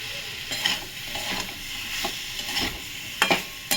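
Cauliflower and potato frying in a pan, a steady close sizzle broken by several scraping stirs of a spatula, no voices.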